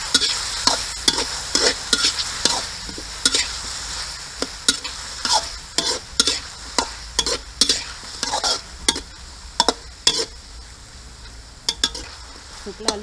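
Sweet bamboo shoots stir-fried with soybeans and oyster sauce crackle and sizzle in a pan, with repeated sharp scrapes and clinks of a spatula stirring at an uneven rhythm, close and fairly loud, no talking.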